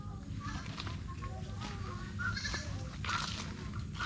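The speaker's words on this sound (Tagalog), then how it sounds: "yung mga alaga ko, yung kambing" Goats bleat close by among a mix of farm animals, including turkeys, around a house after days of rain, with voices talking over the calls.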